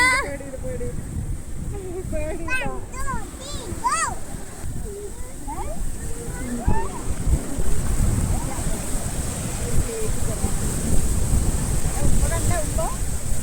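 Sea waves surge up a beach with constant wind buffeting the microphone, while excited voices call out over the rush of water.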